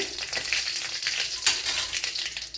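Chillies sautéing in a pan for a drumstick-leaf thoran, a steady close sizzle and crackle with stirring scrapes, with no voices.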